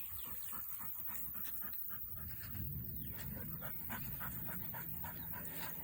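A chocolate-coloured dog playing in water in a natural setting, with panting and small whimpering sounds over a constant bright outdoor wash, fairly close and moderate.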